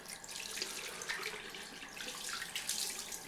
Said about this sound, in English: let's go for the cold rinse